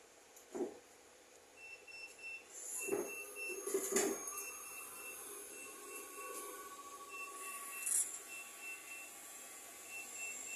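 A sublimation printer runs with a faint steady whir, punctuated by a few sharp mechanical clicks and high whines from its moving print carriage.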